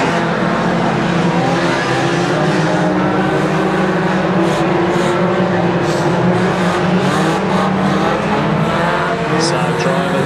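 1500cc banger race cars roar around an oval short track during a team event at Kings Lynn, a loud continuous blend of straining engines with tyre squeals and skids breaking through.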